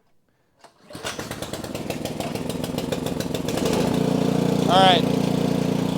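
A snowblower engine cranks and catches in a garage, then settles into a steady running drone as the augers turn, growing slightly louder and fuller; someone speaks briefly over it.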